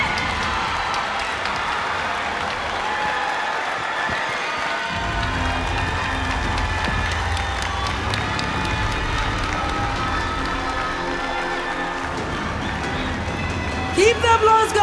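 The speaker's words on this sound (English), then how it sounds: "Keep the applause going" Audience applause and cheering at the Miss South Africa 2021 finale fill the hall, steady and broad throughout, with a host's voice carrying over the crowd.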